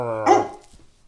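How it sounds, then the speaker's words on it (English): A pet dog gives a single sharp close bark near a table with buttered burnt toast, followed by faint rustling. "and you sitting there barking."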